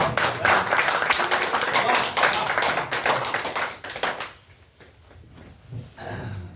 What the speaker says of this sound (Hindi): तेज से तालियां दीजिए।